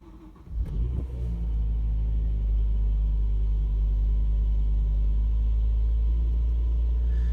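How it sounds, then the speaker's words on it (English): A BMW E60 M5's S85 V10 engine cranks and fires up with a quick rev, then settles into a steady, deep, loud idle rumble that continues to the end. "I'm going to start the car"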